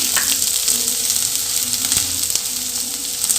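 Roughly cut onions frying in hot oil in a pot for hotel-style pongal sambar, giving a loud, steady, close sizzle with faint scattered pops and stirring scrapes, and no voices.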